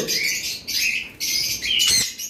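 A breeding pair of sun conures gives a run of shrill, piercing squawks in quick bursts, close and loud, with short gaps between calls.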